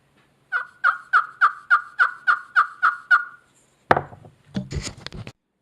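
A wooden striker drawn across a turkey call gives about ten evenly spaced, loud, close yelps in a quick rhythm, followed by a couple of knocks and handling sounds.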